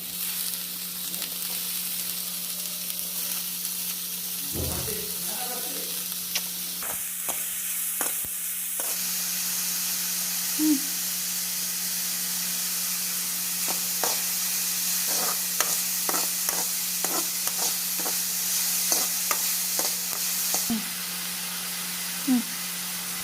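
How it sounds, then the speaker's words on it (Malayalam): Onions sauté in hot oil in a frying pan for chicken cutlets, a steady hissing sizzle with a constant low hum, broken by repeated light taps and scrapes of a stirring spoon. "ചൂടായ എണ്ണയിലേക്ക് സവോള ഇട്ട് വഴറ്റുക"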